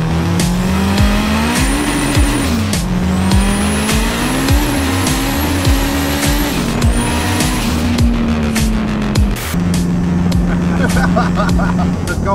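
A 700hp turbocharged Honda Integra Type R accelerates hard, its engine droning and rising through repeated gear pulls with brief dips between shifts, loud and close from inside the car, with faint tire noise in the background.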